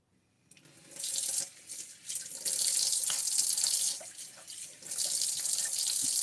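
Tap water runs into a sink as a razor is rinsed during a wet shave, a steady rushing splash that swells and dips over several seconds, close and fairly loud with no talking.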